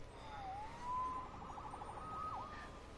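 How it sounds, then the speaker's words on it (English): Police siren in the Spider-Man video game, a wailing tone that rises and falls over a few seconds at moderate distance, with no talking. "Saved by the siren."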